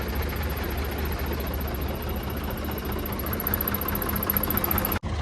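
Tractor engine running at a steady idle, a continuous low rumble with a mechanical knock, close and even throughout, with a high constant whine above it and no voices.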